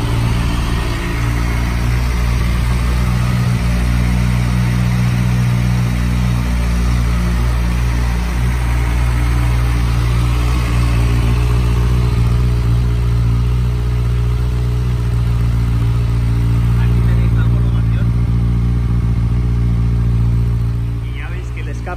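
Kawasaki ZX6R motorcycle converted into a cafe racer, about 24,000 km on it, idling after startup: a steady, fairly quiet low engine rumble that holds an even pitch throughout.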